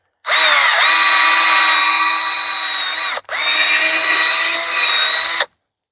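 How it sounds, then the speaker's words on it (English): A power drill whines at high speed, close and loud, in two long bursts separated by a brief stop. "Take a drill. Make sure you drill a hole with plenty of meat in it."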